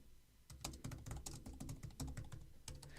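Rapid typing on a computer keyboard, a steady run of close, crisp key clicks with slightly irregular rhythm and no talking.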